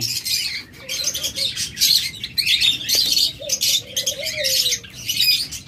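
Small pet birds such as lovebirds, budgerigars, cockatiels and doves chirp and tweet continuously. A few lower squawks and calls cut through the busy high twittering.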